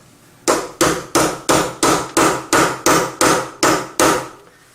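Ten evenly spaced, loud metallic hammer blows on a driving tool ring out close by, hammering a bearing into a Toyota manual gearbox, each strike decaying briefly before the next, with no talking.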